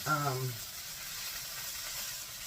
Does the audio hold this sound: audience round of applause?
no